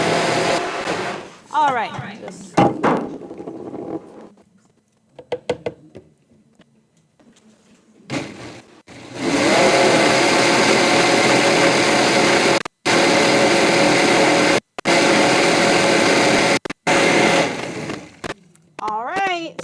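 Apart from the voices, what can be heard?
blender blending ingredients during cooking demonstration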